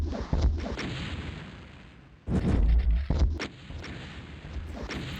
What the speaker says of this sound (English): Dranzer hits himself with that rocket